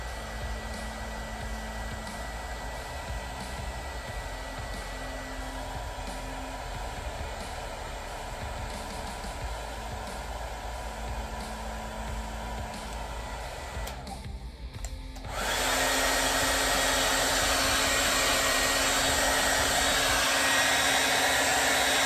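A heat gun's continuous roar of blowing air runs throughout, then jumps suddenly to a louder, harsher rush partway through as the setting is switched up, during a wrap install.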